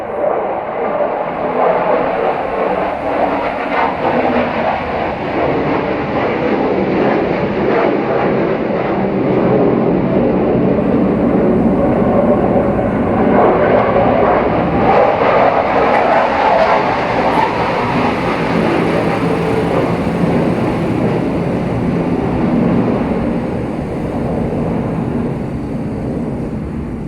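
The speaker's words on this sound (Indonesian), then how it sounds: "jadi ada pesawat tempur lewat" A military fighter jet passes overhead, its broad continuous roar loud and steady for the whole stretch with no talking over it.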